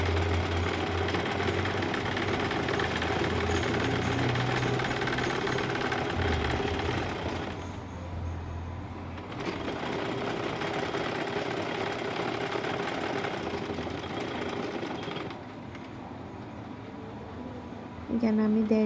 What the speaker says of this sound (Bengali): একটা পাশ সেলাই করার পর এখন আরেকটা পাশ সেলাই করে নিচ্ছি।